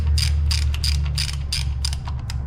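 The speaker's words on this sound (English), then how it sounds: "I like to use the 3/8 ratchet with a 3-inch extension and the short 10mm socket" A 3/8-inch ratchet with a 3-inch extension and short 10mm socket clicks in quick repeated bursts while working spark plugs on a Kia Optima 2.0L four-cylinder, close and steady over a low engine-bay hum.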